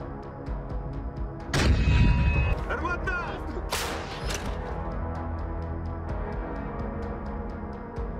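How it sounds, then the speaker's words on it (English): Artillery fire in a combat zone near the Kupiansk sector: a heavy, close blast followed by a sharp crack and another boom. Regular faint ticking and a steady low rumble continue underneath. "Russian artillery and mortar fire hit settlements in the Kupiansk sector"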